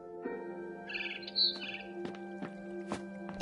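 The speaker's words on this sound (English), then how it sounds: "Then I heard chirping outside my window." A barn swallow chirps outside a window in a video game: a few short, bright chirps near the middle of the clip over a steady tonal game background.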